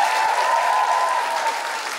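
Loud, sustained applause with cheering from a school revue audience, a dense unbroken wash of clapping honoring the student sound and lighting technicians.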